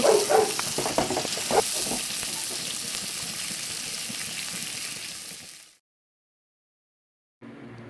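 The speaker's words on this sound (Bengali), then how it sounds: "এখানে কাঁকরোল আর পটলগুলো ভাজা বসিয়ে দেওয়া হলো।" Pointed gourd (potol) and spiny gourd (kakrol) pieces fry in hot oil with a steady broadband sizzle, a few louder stirring crackles near the start, then a sudden cut to silence before the sizzle briefly returns.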